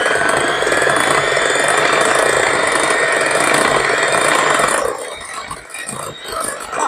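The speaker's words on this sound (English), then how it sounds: "using an electric whisk, we're going to mix it till smooth" Electric hand whisk beating Yorkshire pudding batter of flour and other ingredients in a bowl, a loud steady whirring and rattling drone for about five seconds before it drops away to quieter clatter.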